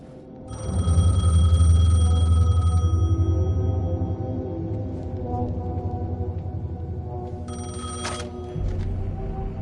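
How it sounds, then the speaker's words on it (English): A telephone bell rings in the video game Alan Wake, a loud, steady trilling ring that lasts a couple of seconds over a low hum, followed by a quieter stretch and a brief second burst of ringing. "phone was ringing."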